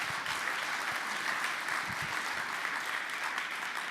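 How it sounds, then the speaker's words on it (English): A studio audience gives a steady round of applause, an even wash of many hands clapping at moderate loudness for about four seconds with no talk over it. "Give her, Robbie, a big round of applause."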